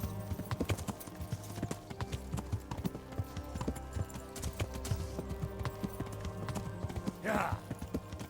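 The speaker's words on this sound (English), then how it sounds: "I'll just ride my horse at this point" A horse's hooves clip-clop at a steady walking rhythm in the medieval video game Kingdom Come: Deliverance, clear and close, with a brief whinny near the end and a few voice sounds under the steps.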